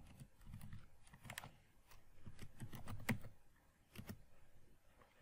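Faint, quick key clicks come from a computer keyboard while JavaScript code is typed, arriving in irregular bursts with brief pauses.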